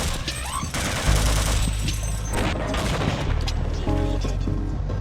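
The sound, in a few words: weapon fire in video game Half-Life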